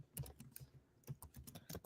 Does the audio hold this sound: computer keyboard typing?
yes